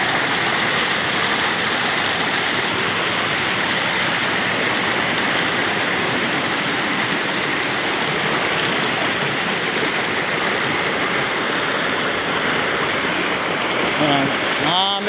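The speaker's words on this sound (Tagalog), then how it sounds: "Ang daming falls dito mga ka-idol." Kipot Falls in Montalban, Rizal, a waterfall pouring in a constant loud rushing roar that fills the whole span, with a brief voice near the end.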